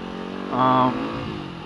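A Yamaha WR250X supermoto motorcycle engine hums steadily while riding, with a brief swell in revs partway through, heard close over wind noise.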